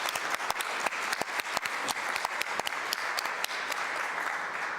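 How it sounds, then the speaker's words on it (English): Sustained applause from a crowd, a dense wash of many hands clapping at steady volume from start to finish. "So just give CLS a big round of applause."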